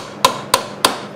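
A hammer strikes a table three times at even intervals, each hit a sharp, loud, close knock with a short ringing decay, made in the middle of working on a motorized scooter engine's piston.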